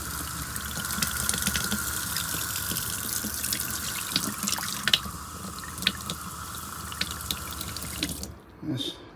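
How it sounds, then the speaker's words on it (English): Water runs from the tap of a camper van after the drinking water tank has been flushed, a steady close hiss of flowing water with small drips and splashes, cutting off near the end. "just run some water through, so that I get water through the full pipe work, going right through and into the van and the taps"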